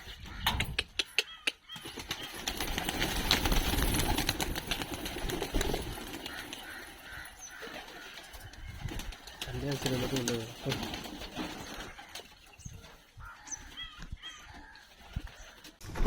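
Pigeons released from a loft and flying out, with wing flaps and bird coos heard amid ongoing talk, plus scattered clatter and rustling close by.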